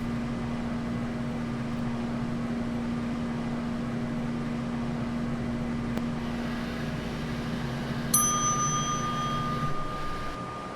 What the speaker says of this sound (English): It's such a nice mechanical bell.